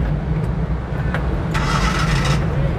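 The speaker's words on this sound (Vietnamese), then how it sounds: "Đây, động cơ nổ rất êm nha quý anh chị." A Suzuki Carry light truck with a 500 kg payload and its engine mounted underneath is started with the key: a steady low hum, then a louder broadband burst of cranking and firing about halfway through, settling into a smooth running note.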